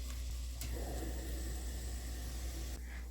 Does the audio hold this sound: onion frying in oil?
yes